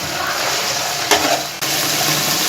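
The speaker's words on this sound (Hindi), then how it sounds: "देखिए चिकन का कलर चेंज होगा, इसलिए हम इसको फ्राई करेंगे" Chicken pieces fry in a pan for chicken and potato pulao, a loud, dense, steady sizzle close up, with a brief stir or scrape partway through and no voices.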